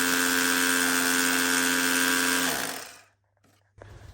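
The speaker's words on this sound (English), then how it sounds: "we're going to drill the wall up, get the SDS gun in" An SDS drill bores into a wall while a new combi boiler is being installed, a loud, steady high-pitched whine that spins down and stops, followed by a brief quiet and a faint resumed hum.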